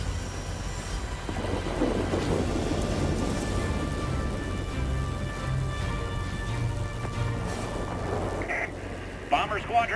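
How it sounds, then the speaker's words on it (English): A thunderstorm rumbles in the World of Warplanes game, with deep, steady, rolling thunder and rain noise throughout and a few brief higher flickers near the end. "We cannot support you any longer. The storm is too heavy."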